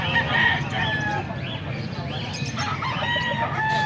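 Several gamecocks, young stags, crow repeatedly amid the steady din of a busy cockfighting-bird market in Angeles, Pampanga, overlapping calls rising over crowd chatter and clucking close by.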